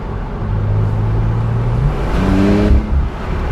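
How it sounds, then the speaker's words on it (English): A 2017 Porsche 911 Carrera S Cabriolet with a twin-turbo boxer engine accelerates hard at full throttle, a loud close engine note rising in pitch through the gears. "And a huge blat on full throttle"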